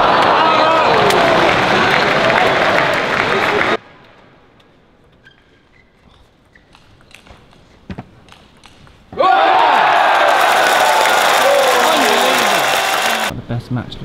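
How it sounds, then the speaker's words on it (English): Loud crowd cheering and applause at the 2017 World Table Tennis Championships fills the arena, breaks off into a quieter stretch with scattered sounds, then surges back at full volume. "Crowd really getting involved here"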